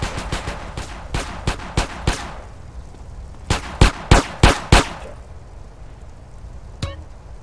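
Repeated gunshots in GTA San Andreas during a cops mission, two loud bursts of sharp cracks separated by a pause, followed by a faint electronic blip.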